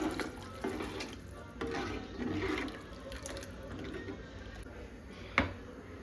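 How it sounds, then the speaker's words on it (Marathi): Heated water poured from a vessel into a pan of spicy homemade egg curry, a running, splashing pour with bursts of gurgling and a sharp clink of metal near the end. "आता यामध्ये आपल्याला जेवढं हवं आहे तेवढं पाणी सोडून घेऊ. गरम केलेलं पाणी सोडायचं."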